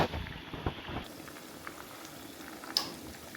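Chicken frying in a pan gives a steady, soft sizzle and bubbling close by, with a few brief pops and spits and no voices.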